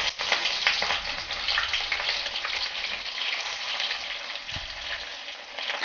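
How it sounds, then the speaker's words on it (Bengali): Chopped onions fry in a pan of hot oil for a taro and meat curry, giving a steady, close, dense sizzle that holds evenly throughout with no talking. "পিঁয়াজখিনি মানে অলপ আপোনাৰ ব্ৰাউন ব্ৰাউন হওকলৈকে ধুনীয়াকৈ ভাজি ল'ম"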